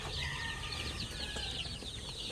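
Native chickens and week-old chicks on a poultry farm give off a steady, busy chorus of high chirps and peeps, with soft clucking and faint farmyard noise underneath. No one speaks.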